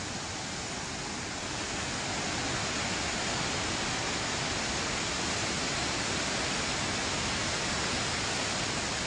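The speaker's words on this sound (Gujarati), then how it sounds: "સૌરાષ્ટ્રની શાન ગણાતા જમજીર ધોધનું વિકરાળ સ્વરૂપ જોવા મળ્યું છે" Jamjir waterfall in Gir running in full spate after heavy rain, a dense, unbroken roar of rushing water filling the whole clip at constant loudness, with no voices or other sounds.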